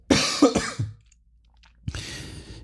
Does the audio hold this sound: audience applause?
no